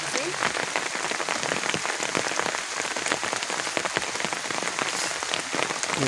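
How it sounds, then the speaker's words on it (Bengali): Light drizzling rain falling outdoors in a village, a steady close patter of drops on surfaces with soft scattered taps, continuous and even throughout. "টিপটিপা বৃষ্টি পড়তেছে"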